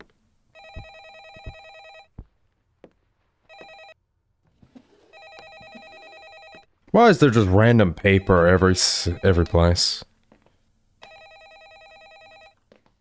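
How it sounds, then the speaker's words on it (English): A telephone rings in a horror video game with repeated electronic trill bursts separated by pauses, while a person talks loudly over a stretch in the middle. "I'm not answering the phone."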